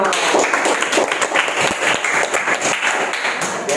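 A classroom of students claps together in a dense, steady burst of applause that fills the whole stretch at an even loudness.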